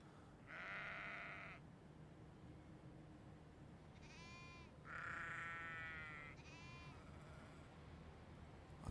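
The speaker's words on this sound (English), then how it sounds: "I hear sheep." Two bursts of sheep bleating in Train Simulator 2021, wavering and nasal, sounding at a moderate distance over a steady low rumble of an idling train, with a quieter bleat trailing after.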